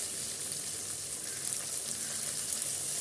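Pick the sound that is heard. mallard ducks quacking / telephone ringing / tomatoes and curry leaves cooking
tomatoes and curry leaves cooking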